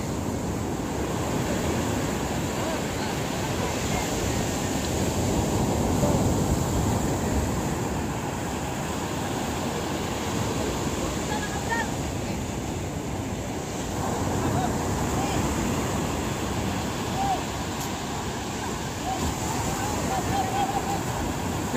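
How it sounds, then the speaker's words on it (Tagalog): Ocean waves and wind roar steadily at sea near boats, a dense continuous wash of surf and gusts with brief voices faintly under it. "Laki pa rin ng alon eh."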